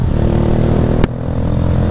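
A 2023/24 Honda Fan 160 motorcycle carries a passenger. The engine drones loud and close, with a brief sharp clack about halfway through, and then settles into a slightly softer steady hum.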